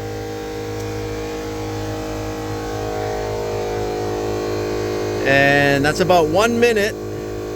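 An air compressor hums steadily and loudly while inflating a car tire during a DIY tire repair, a constant motor drone with a voice speaking over it near the end.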